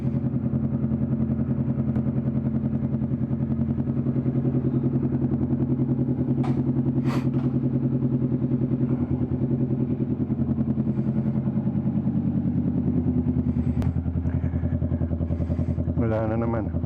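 A motorcycle engine runs at a steady idle with a deep, throbbing hum and light mechanical clatter, a few brief higher sounds near the end.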